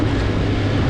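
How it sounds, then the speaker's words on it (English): An Infiniti G37 engine after a tune, heard up close as a loud, steady, rumbling drone throughout a brief moment, with no voices. "I'm gonna give y'all a few revs."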